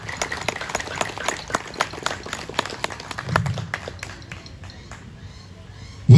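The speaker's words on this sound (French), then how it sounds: "Je vous prie d'applaudir le vénérable maître Antoine de Marx." Applause from members at a Masonic lodge ceremony celebrating St Jean Baptiste, honoring the worshipful master: a brisk stream of hand claps that thins out and fades over the last seconds, ending with a sudden loud thump.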